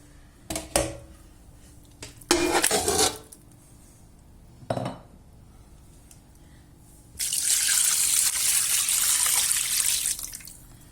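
Meat dropped into a pot of water for Azerbaijani xaşlama, with a few clattering knocks and splashes followed by a steady, close rush of running water.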